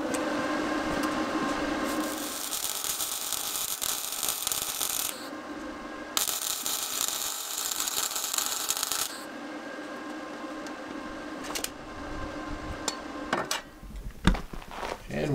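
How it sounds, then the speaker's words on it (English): Electric welder running off a Bluetti AC200P power station, giving bursts of loud broadband crackle and buzz in two main stretches separated by quieter pauses, with scattered clicks and handling noises toward the end. "So we will see if it'll power the welder."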